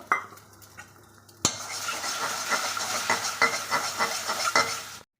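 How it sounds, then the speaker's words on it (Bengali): An egg frying in mustard oil in a wok, with a steady loud sizzle broken by repeated scraping and clinking stirs of a utensil against the metal, and no talking. "এখন কড়ার মধ্যে দিচ্ছি সর্ষের তেল ডিমটা ভাজবো"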